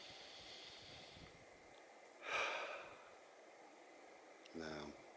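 A calm meditation breath: one soft, airy exhale swells and fades midway, followed by a brief voiced sound, over a faint hiss of background noise.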